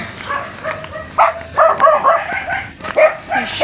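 A dog barks several times in quick, irregular bursts along a walk outdoors, fairly close and moderately loud, with some background noise between the barks.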